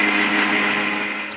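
A mixer grinder whirs at high speed, grinding coconut and onion into masala, a loud, close, steady buzzing hum that fades slightly as the short burst ends.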